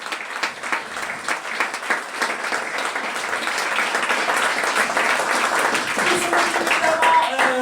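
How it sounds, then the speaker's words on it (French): A hotel crowd at Les Karellis applauds the staff team with sustained clapping that builds slightly and holds steady, with voices mixed in beneath. "je voudrais que vous fassiez un tonnerre d'applaudissements à toute l'équipe. Andrés, et ses sombreros."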